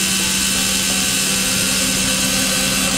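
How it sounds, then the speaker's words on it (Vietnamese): The electric motor of a 527 RC 2.4GHz remote-control motorcycle runs with a steady, loud mechanical whine and hum at constant speed throughout, heard alone and close. "tiếng động cơ nó nổ máy lên rồi đó."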